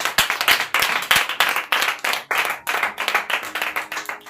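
A church congregation claps in praise, a loud run of quick, rhythmic bursts of many hands striking together in a slightly uneven beat, close and without speech.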